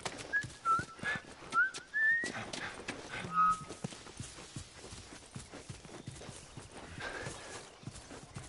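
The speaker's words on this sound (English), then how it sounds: "I'm whistling." Short whistled tune from the player character in The Last of Us, a few bright rising notes over clip-clopping horse hooves and outdoor game ambience.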